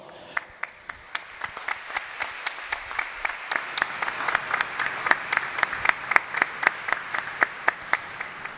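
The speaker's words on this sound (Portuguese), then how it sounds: "pedir a todos vocês uma salva de palmas para toda a equipe da Secretaria de Estado de Defesa do Consumidor e o PROCON RJ" A large audience applauds at the opening ceremony of a consumer week at a state legislative assembly in Rio de Janeiro, with steady, sustained clapping throughout and sharp individual claps standing out near the microphone.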